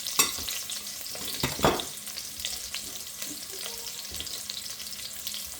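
Red onions sauteing in a pan for a quick South Indian curry, with a soft low sizzle broken by a few scraping stirs of the spoon, close and fairly quiet, with no talking.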